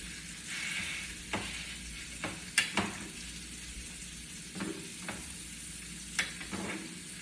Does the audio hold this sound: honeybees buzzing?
no